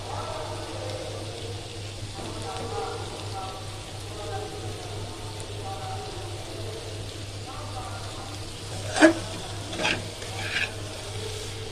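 Mashed potatoes stir-fried in hot oil for an egg curry, a low steady sizzle under speech, with a few sharp clinks of a utensil against the pan near the end.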